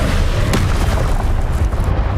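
A spell cast in the Hogwarts Legacy video game lands as a dense, loud magical blast with a boomy burst near the start, then continues as sustained rumbling noise.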